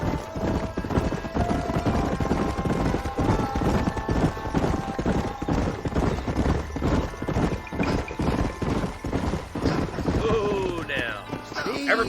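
A group of horses clip-clops steadily in Red Dead Redemption as riders approach and dismount, hoofbeats loud and rhythmic throughout with a few scrapes and clatters near the end.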